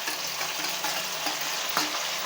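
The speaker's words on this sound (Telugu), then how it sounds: "గోల్డ్ కలర్ వచ్చే వరకు వేయించుకోవాలి." Steady sizzle of frying in a pan while a fish curry is cooked, with tomatoes frying until golden; a dense broadband hiss runs throughout, broken by a few soft scraping stirs, with no voices.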